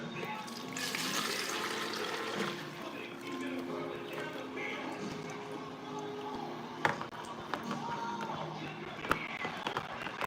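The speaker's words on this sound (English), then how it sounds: "One more time, we're pouring the oils in here." Melted oils for soap making are poured into a container, giving a continuous liquid pouring and trickling sound with a few sharp knocks toward the end. The pour is steady and moderately quiet.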